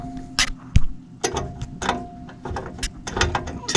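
A nut driver works the screw of a Lennox furnace flame sensor counterclockwise, giving close, loud metallic ratcheting clicks and scraping in irregular bursts, with no voices.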